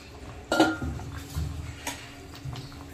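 A lid clanks onto a metal cooking pot with ilish fish and gathi kochu (taro) inside, then a few lighter clinks and scrapes of cookware follow, close by and with no talking.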